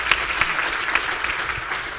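Audience applause at a Women in STEM Leadership panel discussion, a dense, steady burst of clapping from a crowd lasting the whole moment, fairly loud and close.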